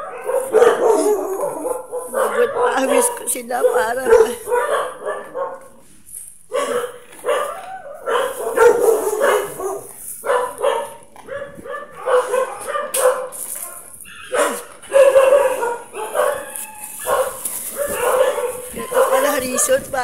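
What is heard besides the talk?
dogs barking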